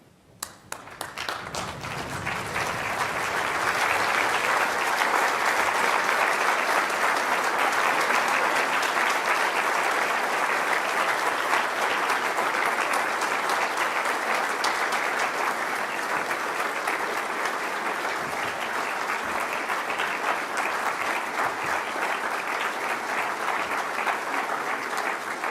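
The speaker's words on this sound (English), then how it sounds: "can I please ask you all to stand and give a round of applause for your senior officers of the" A standing graduation audience at the University of Liverpool applauds its senior officers, a long dense wall of clapping that swells within seconds and holds loud and even throughout.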